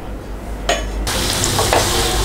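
Pre-fried chicken pieces for chilli chicken are stirred into a sizzling pan. A steady frying hiss swells as the spatula scrapes and mixes, with no talking.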